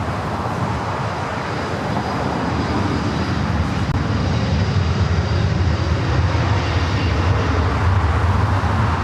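A Delta airliner takes off from runway 24 left at Los Angeles International Airport, its engines a loud, sustained jet roar with deep rumble holding steady throughout, no voices.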